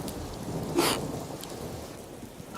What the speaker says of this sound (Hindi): एक तो बारिश हो रही है, सारी लकड़ियां भीग गई हैं।